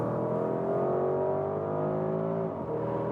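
All-wheel-drive car with a rear-wheel bias accelerating hard through a corner, engine droning steadily with a rising whine, then easing off near the end; no voices.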